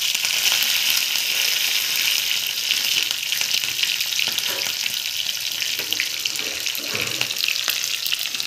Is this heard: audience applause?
no